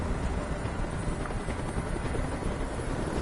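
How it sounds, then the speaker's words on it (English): A helicopter in the video game Detroit: Become Human, a steady dense rotor and engine roar that holds at an even level from start to end, with no voices over it. "Tell that helicopter to get out of here."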